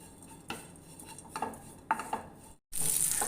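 Grated coconut roasts in a pan with coconut oil. A spoon gives scattered scraping strokes, then a brief silence before a loud, steady hiss takes over at the end.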